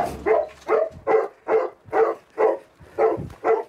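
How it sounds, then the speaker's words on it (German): A golden retriever search dog indicating a find with a run of eight loud, evenly spaced barks at close range, about two per second, with nothing else heard around them. "Max zeigt an, muss also so lange bellen, bis auch sein Herrchen vor Ort ist"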